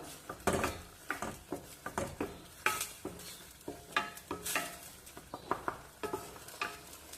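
Onion and tomato sauté in a pan for a bitter gourd kuzhambu, with soft sizzling beneath a busy, irregular run of close spatula scrapes and taps.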